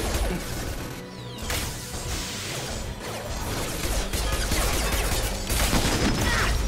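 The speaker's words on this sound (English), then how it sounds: "Just took a rocket to the chest." Chaotic Mass Effect 2 combat as rockets and gunfire hit the player: dense bursts of shots, crashing impacts and whooshes, loud and sustained throughout.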